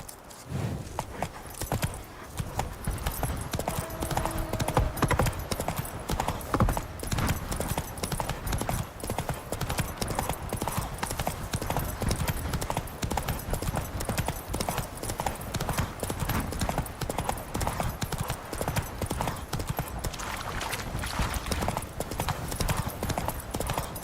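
Roach, the horse in The Witcher 3, gallops in a fast, steady clip-clop of hooves that runs unbroken for the whole stretch, with a few brief sounds rising above it.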